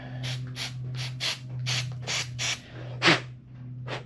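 Short hissing bursts from an aerosol cleaner spray can removing carbon buildup on a 1994 Buick Regal GS, about a dozen quick squirts in an uneven rhythm, close up over a low steady hum.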